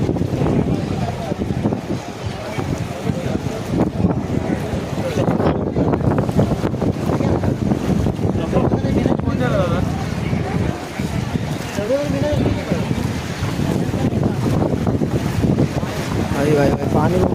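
Strong, fast-flowing clear sea water at Shrivardhan beach, a continuous rushing wash mixed with wind buffeting the microphone, with people talking over it throughout.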